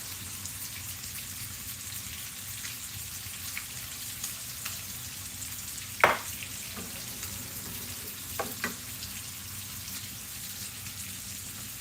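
Sausage meat with red pepper flakes sizzles steadily in a pan, a soft continuous crackle close by with a few sharper clicks and taps from a utensil breaking it up, no talking.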